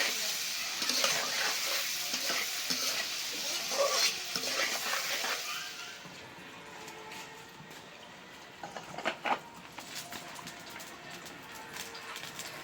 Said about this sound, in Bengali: ভাজা নিতেছি একটু হলুদ মরিচ দিয়ে দিলাম